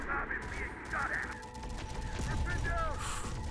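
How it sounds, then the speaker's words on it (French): Artillery and gunfire in Terminator Dark Fate Defiance, a dense rumbling barrage of booms and crackling shots running continuously at mid distance, with a voice talking briefly over it. "Ouh, l'artillerie là."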